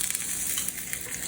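A bone-in pork chop is laid into a hot, oiled, smoking pan, setting off a steady, bright sizzle and frying hiss that holds unbroken for a moment.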